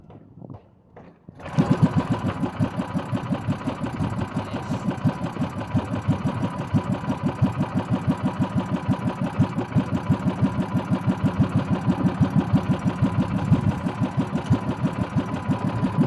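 A small engine, apparently a motorcycle, starts and settles into a steady idle, its low, rapid, even putter running loud and close for the rest of the stretch with no talking.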